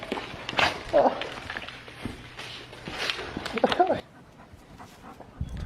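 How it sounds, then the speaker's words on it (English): A dog reacting to a person in a dog mask pants, whimpers and shuffles nearby, with footsteps and movement, while a person talks over it throughout. "Let's go see my dog reaction to this dog mask."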